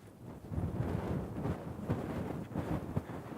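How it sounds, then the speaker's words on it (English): Broadband wind rumble buffets an outdoor microphone, steady and fairly loud, with gusty low-frequency surges throughout and no voices. "You'll have to forgive the wind today, Ernie."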